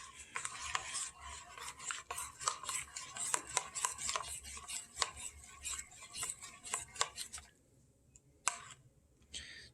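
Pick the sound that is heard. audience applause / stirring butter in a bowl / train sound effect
stirring butter in a bowl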